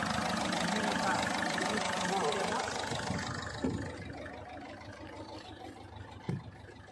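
A high-mileage Ford Figo with an injector fault idles steadily just after starting. The engine hum fades a little after a few seconds, with a couple of soft knocks and a voice speaking quietly over it.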